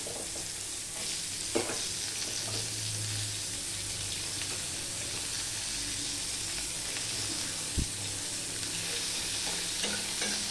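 Sliced onion dropped into hot oil with a panch phoron tempering, frying with a continuous close sizzle and occasional spoon clinks against the pan, no talking.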